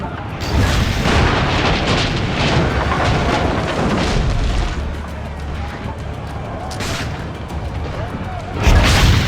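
Cannon fire in the Assassin's Creed Brotherhood video game, heavy booming blasts rolling through a loud battle scene with shouting voices over a continuous dense din, a fresh boom near the end.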